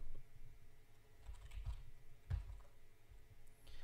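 Soft keystrokes tap on a computer keyboard while a clothing store name is entered into a WordPress site setup, a short, muffled run of typing over low background hum.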